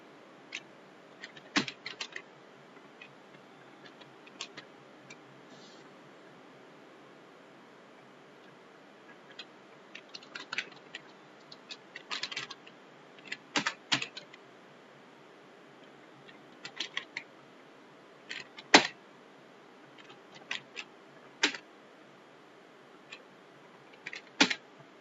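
Keys clatter on a computer keyboard while JavaScript code is typed, coming in short bursts of quick clicks split by quiet pauses, close and crisp with no voices.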